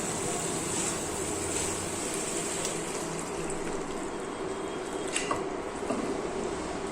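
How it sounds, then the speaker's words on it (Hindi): Water poured steadily into a pan of yogurt-based soybean kadhi, giving an even, continuous wash of liquid sound with faint splashes and no talking. "अब इसमें हम डालेंगे पानी।"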